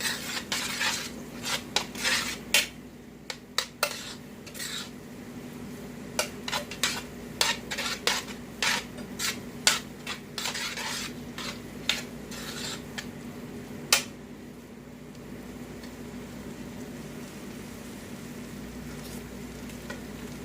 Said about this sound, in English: You want to have a hot pan, okay? You want to brown the meat.